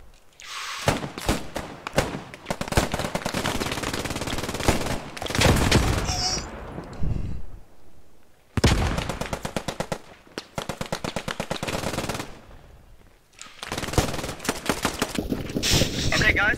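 Bursts of rapid machine gun fire in a video game, loud and close, come in several long volleys separated by short pauses, with players talking over the shooting.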